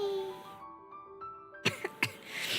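Someone who is sick coughs and sniffles, giving three or four short, sharp bursts close to the mic near the end. Before them come quiet harmonic tones and low background sound.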